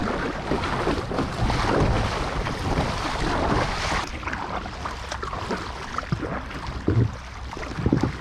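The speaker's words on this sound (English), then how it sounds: "I can tell it's getting wind over tide with these horrendous swells that I'm paddling into." Wind buffets the microphone over rough swells as a kayak is paddled through wind over tide at sea, with steady wash and splashing water, louder in the first half and easing later.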